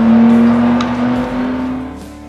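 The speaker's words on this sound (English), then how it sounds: "they've even designed an 8-in-1 top-mounted exhaust manifold that creates a unique high-frequency sound." A hydrogen-powered car engine with an 8-in-1 top-mounted exhaust manifold produces a steady, loud, high-pitched exhaust drone that holds one sustained tone and fades slightly toward the end.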